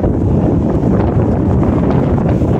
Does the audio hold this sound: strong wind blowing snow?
yes